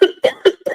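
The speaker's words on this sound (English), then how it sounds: "cough is ruining my life and has been for 6-7 weeks" A person gives four quick, harsh coughs in a tight, even burst, close and loud, each one sharp and short with a brief gap before the next.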